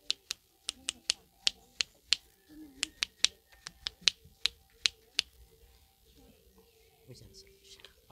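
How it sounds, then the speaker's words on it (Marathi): Sharp one-handed claps from a blind performer snap out in a quick, fairly regular series of crisp, close, dry cracks, then stop, with faint murmuring and soft rustling underneath. "तर तेच एका हाताने करतो मी, ज्याला वन हँड क्लॅप फिजिओथेरपी म्हणतात"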